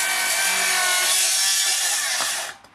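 A Makita 40V circular saw rips through timber at a deep 75mm cut, the blade rubbing slightly in the kerf; a loud, steady, close grinding whine holds for over two seconds and then spins down as the cut ends.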